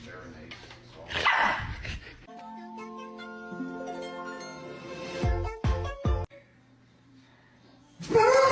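Dog barking on the way to the vet, a few sharp, close barks and yips in bursts, mixed with whining tones and background voices.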